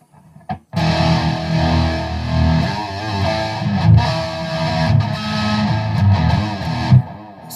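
A First Act ME601 electric guitar played through heavy distortion, a loud sustained crunchy chord line with rhythmic strums and brief pauses, filling the whole stretch without talk.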